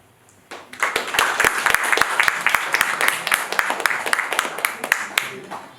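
Audience at a comedy show in Clermont-Ferrand breaks into applause, a dense run of many hands clapping that starts abruptly and holds steady for several seconds, with a few sharper individual claps standing out.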